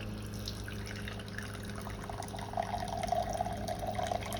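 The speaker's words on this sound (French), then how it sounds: "Donc là on met en route, le filtre doit se remplir d'eau dans un premier temps." Water runs into a Bello Home water filter as it fills for the first time, a faint steady trickle that grows a little louder and more bubbly partway through.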